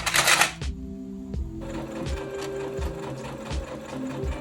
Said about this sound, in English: sew the side seams together